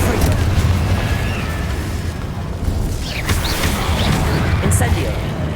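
In the Hogwarts Legacy video game, a Confringo blasting spell goes off as a dense, loud, rumbling burst. It sits inside a constant wash of combat noise with a few higher whooshing effects over it.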